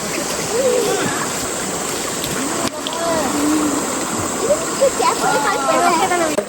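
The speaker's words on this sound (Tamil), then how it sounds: "இந்த தண்ணி சவுண்ட் கேட்கறது அப்படியே ஒரு நேச்சுரல் தெரப்பி மாதிரி மைண்டுக்கு அவ்வளோ காமா இருக்கு" Stream water flowing and splashing steadily over rocks, a continuous near rush with brief louder sloshes, while people's voices drift in and out underneath.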